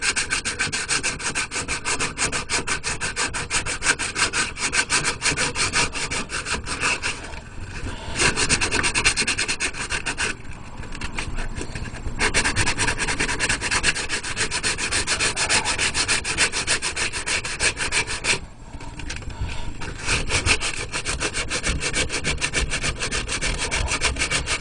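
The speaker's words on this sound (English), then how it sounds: "I'm using some slightly finer sandpaper this time to get it in shape" Sandpaper rubs steadily over a helmet, giving a loud, continuous scratchy rasp in fast back-and-forth strokes with a few brief pauses, close up and without talk.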